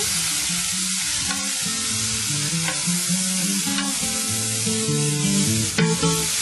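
Beef and vegetables frying in olive oil, stirred in a pot for a stew: a loud, steady sizzle with intermittent scraping stirs, close by and continuous.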